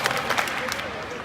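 Classroom audience at a teaching keynote clapping in unison, two quick sharp claps at the start followed by murmuring and low chatter.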